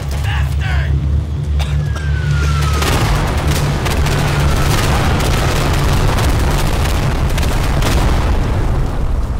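Heavy explosions from a German bomber raid in the WWII shooter Day of Infamy, a loud continuous barrage of booms and bursts with gunfire mixed in and shouting voices at the start.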